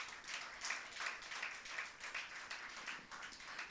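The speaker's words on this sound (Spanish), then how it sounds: "Dale un aplauso a Dios" A church congregation applauds, a soft, distant wash of many hands clapping continuously for a few seconds without any voices standing out.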